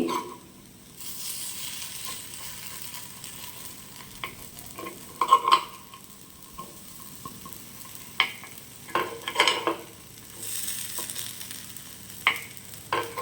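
Kuzhi paniyaram being turned in a hot pan, with a quiet steady frying hiss and scattered close scrapes and taps of a tool against the metal, coming in brief clusters.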